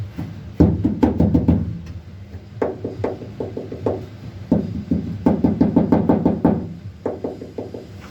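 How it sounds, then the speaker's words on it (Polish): Knuckle knocks on the sheet-metal body panels of a BMW E32 fitted with sound deadening, close and alone: several bursts of quick, rhythmic taps, mostly dull and damped, a few ringing slightly brighter. "będę teraz pukał gdzieś w tym miejscu, a później puknę w tym miejscu i już słychać różnicę jak to wygłusza"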